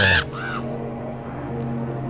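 A single crow caw, a short harsh croak used as a sound effect, loud and close at the very start, followed by a low droning tone alone.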